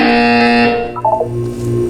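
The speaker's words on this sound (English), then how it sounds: "When you hear the buzzer, look down at the floor." An electronic buzzer in the video game Portal 2, a loud sustained tone that cuts off, followed by shorter buzzing pulses and a low hum.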